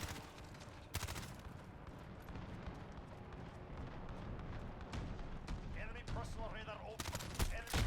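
Gunfire in the Modern Warfare beta video game: dense, sharp bursts of shots and explosions spread throughout, fairly quiet in the mix, with a voice talking over part of it.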